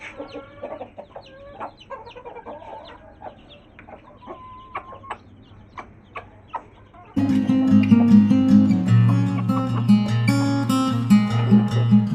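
Chickens and chicks cluck in short, scattered calls near an Aseel rooster, then a louder, dense wash of sound rises and largely buries them.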